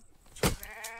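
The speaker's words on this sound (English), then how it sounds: "Goddamn sheep is taunting me." A single short sheep bleat rings out in the survival video game The Infected, a brief loud call against quiet background sound.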